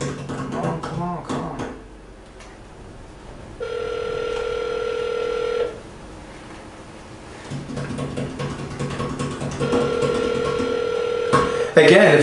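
Two long electronic phone rings sound, each lasting a couple of seconds with pauses between, while people talk and move about nearby.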